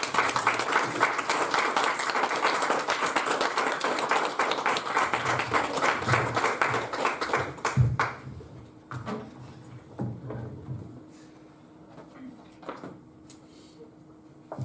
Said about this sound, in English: Round of applause for Carrie, please.